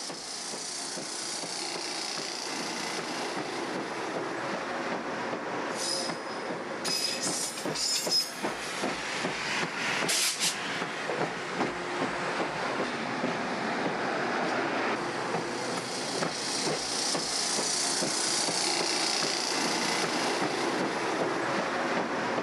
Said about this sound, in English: A train of the M1 cars slows for Union Hall.